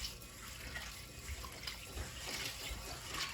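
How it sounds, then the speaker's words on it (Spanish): Soaked dried beans being rinsed under a running kitchen tap while preparing bean soup: a steady, soft rush of flowing water with faint splashes, heard close and on its own. "Lo que voy a hacer ahora es lavar bien mis frijoles."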